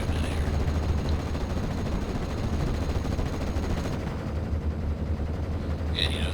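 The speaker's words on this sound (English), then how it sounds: "Let's see what we're shooting at" Rapid gunfire and distant battle rumble from the World War II strategy game Normandy 44, a dense continuous barrage with a sharper burst near the end and no talking.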